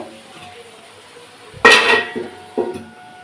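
A metal lid set onto a pot of meat curry gives one clear clattering clank followed by a smaller clink a second later, close by in a quiet kitchen.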